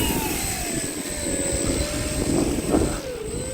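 A small Arrows Husky Ultimate RC plane revs its electric motor at full throttle for takeoff, a steady close whine holding throughout with a slowly falling pitch.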